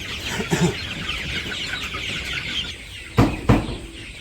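Chickens clucking steadily in the background as they are fed in a village yard, with two louder, sharper clucks close by near the end.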